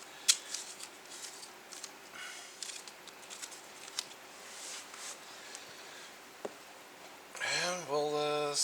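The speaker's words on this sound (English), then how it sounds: "I'm just going to pre-tear a couple of pieces of tape here." Pieces of tape torn off a roll by hand while replacing a wood stove door gasket: scattered crisp rips and crackles at close range over a quiet background, followed by a voice speaking at the end.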